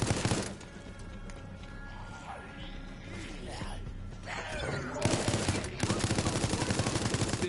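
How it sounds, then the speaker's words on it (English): Machine gun fire in the Project Resistance beta, with bursts of rapid shots and a long rattling volley toward the end, over game noise, while a person talks. "Machine gun."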